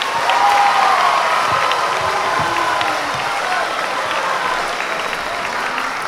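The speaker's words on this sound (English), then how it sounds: "let's give a big welcome and round of applause to Upham House" Audience applause and cheering for a house group at a school small-choir competition, a broad, sustained roar of clapping from a large crowd, with faint whoops mixed in, fading gently toward the end.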